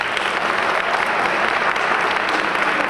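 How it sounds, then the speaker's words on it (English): Dense, loud applause from a large audience at a women's awards ceremony in Jersey City honoring council members, an even roar of many hands clapping without break. "join me in just a round of applause and the appreciation to them"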